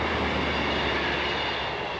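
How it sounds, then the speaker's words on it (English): A passing train makes a loud, steady rumble and roar close by, a continuous rolling wheel noise that fills the whole stretch without pause. "There goes the train."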